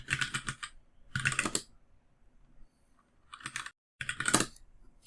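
Bursts of quick typing on a computer keyboard while entering Python code, clustered key clicks with short pauses between runs, close and moderately quiet.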